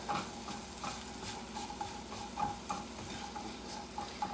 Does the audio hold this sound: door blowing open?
no